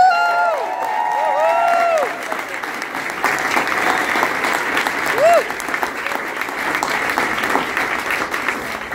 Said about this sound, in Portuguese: Quero que vocês aplaudam com muito carinho o Selma!